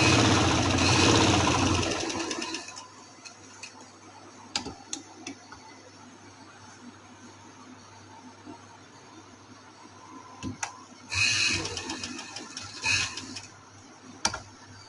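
A sewing machine stitches a folded seam on a party-wear designer dress, a loud burst of rapid motor whirring at the start, then quieter ticking and a second whirring run of stitching later.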